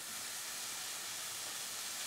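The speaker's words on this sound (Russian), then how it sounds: "Выкладываем лук и обжариваем его" Onions frying in a pan for a zucchini dish, a steady soft hiss of sizzling oil throughout, close and even with no talking.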